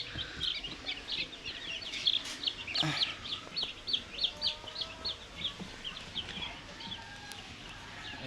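One-day-old tiger-breed chicks peep in rapid, high, repeated chirps while being handled and weighed, a steady cluster of shrill calls close by with brief handling noise.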